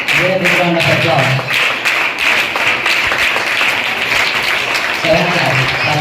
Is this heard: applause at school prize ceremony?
yes